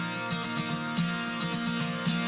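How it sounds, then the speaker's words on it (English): A standard steel-string acoustic guitar, picked close to the bridge, rings out in bright, jangly strums at an uneven pace, each fresh chord sharp and close, with no voices over it. "So I played it really close to the bridge and sounds like this."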